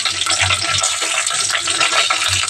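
Garlic, onions, cumin and dried red chilies frying in a pan give a steady, close sizzle with soft stirring scrapes running throughout, no voices.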